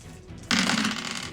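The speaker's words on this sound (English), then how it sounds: "Oh, drop that dice." Dice drop onto a table and clatter as they roll during a tabletop role-playing game, a sudden bright rattle that fades out over about a second.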